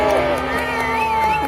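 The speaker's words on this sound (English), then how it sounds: "give a big cheer" Audience at an Arbroath Abbey event cheers for a broadsword fighter, steady voices and shouts filling the short stretch at moderate loudness.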